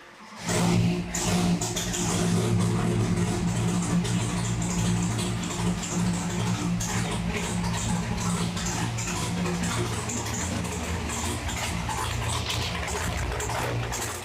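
A 632 cubic inch big block engine idles and warms up in a dyno cell, making a loud, steady rumbling drone that holds for the whole stretch after a sharp start.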